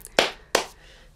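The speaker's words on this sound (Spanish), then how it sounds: "un aplauso para Diego Brici" Two sharp hand claps ring out close and distinct, a brief pause between them, with no other sound around them.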